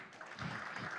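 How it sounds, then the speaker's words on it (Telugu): Applause from an audience at a Telugu film event, a short soft burst of many hands clapping heard at a distance. "ఇప్పుడు చప్పట్లు కొట్టచ్చండి."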